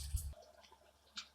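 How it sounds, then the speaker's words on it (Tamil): A small amount of water poured into a vessel to rinse out tomato and garlic paste for egg masala: a brief low knock, then light watery trickles and drips, quiet and close, with no speech. "இதுலயே கொஞ்சமாக தண்ணி ஊற்றி நீங்கள் கழுவி அதிலே சேர்த்துக்கோங்க."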